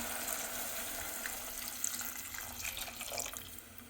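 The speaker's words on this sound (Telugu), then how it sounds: "టూ గ్లాసెస్ వాటర్ అయితే పోసేసుకుందాం" Two glasses of water are poured into a pot while making a semolina breakfast, a soft steady splashing pour heard alone and fairly faint.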